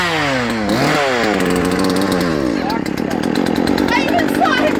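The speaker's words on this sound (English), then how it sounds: "I love chainsaws." A chainsaw runs loud and close at a Halloween party, its engine revving up and down in sweeping pitch changes and then holding a steady buzzing idle.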